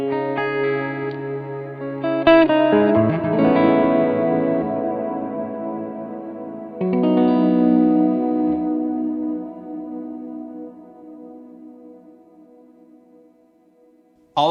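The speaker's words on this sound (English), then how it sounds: "All of that reverb is coming just from the M1." Electric guitar played through an M1 effects pedal set for heavy reverb, chords ringing out with a long washy tail that swells and slowly decays, loud and alone.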